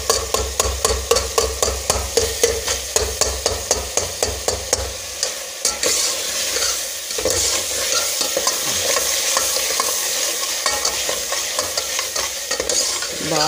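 Dal mash roasting in a pan on the stove: a quick, regular series of spoon scrapes and stirring knocks first, then a dense, steady sizzle of frying filling the rest, close and fairly loud with no talking.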